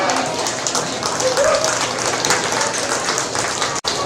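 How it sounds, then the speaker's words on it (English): Loud, dense applause from a crowd at a county sheep showmanship and market lamb show, a continuous hiss-like roar of many hands that holds steady for about four seconds before cutting off sharply. "Let's give him a round of applause."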